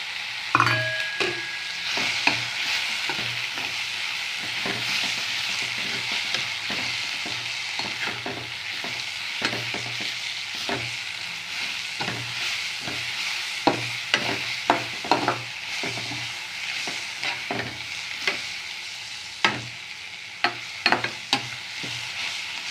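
Grated coconut frying in a pan, a steady close sizzle overlaid with frequent rhythmic scraping and tapping of a stirring spoon against the pan, continuing for a long stretch without speech.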